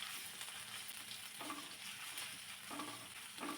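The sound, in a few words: sautéing ginger and green chillies for burger filling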